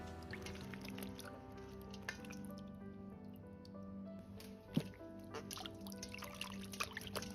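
Shiitake mushrooms being washed in lightly salted water give soft, quiet splashing, trickling and squishing, with a faint knock partway through.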